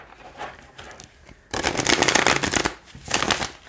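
Crystal Power tarot cards are shuffled by hand: a few soft riffles at first, then a louder, crisp run of fluttering card slaps, a pause, and another burst close up.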